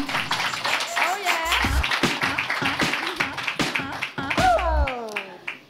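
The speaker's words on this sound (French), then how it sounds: "c'était un petit 2-3 applaudissements de plus" A handful of sharp claps sound in a small studio, close and crisp, spread across several seconds as scattered bursts over continuous conversational talk and laughter.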